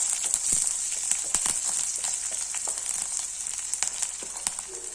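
Vegetables for a quick tiffin-box rice sauté lightly in a pan, giving a steady, faint close sizzle dotted with small crackles and pops, with no talk.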